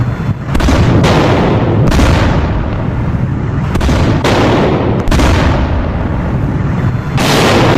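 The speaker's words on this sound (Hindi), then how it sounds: "धमाके होने लगे" Repeated heavy blasts from Israeli strikes in Iran, a loud sustained rumble broken by several sharp booming bursts every second or two, with no talk.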